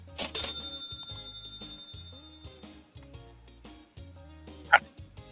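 Checkout sounds from the Supermarket Together video game: a busy run of electronic beeps, clicks and tonal chimes from a cash register, with a bright ring at the start and a sharp peak near the end, heard without talking.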